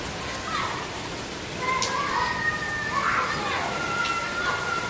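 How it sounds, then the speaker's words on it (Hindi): Heavy evening rain pours down in Rawalpindi as a steady, dense hiss, with faint distant tones and scattered sounds drifting over the downpour. "बड़ी ज़बरदस्त बारिश हो रही है"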